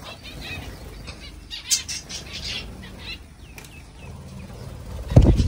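Pigeons flying for the first time in a village, with bursts of flapping wings, the loudest flurry coming close at the end, amid chirps and light bird calls in the background.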